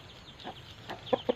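A few village chickens cluck softly while scratching and pecking for worms in the yard, with short, close clucks coming louder in quick succession toward the end.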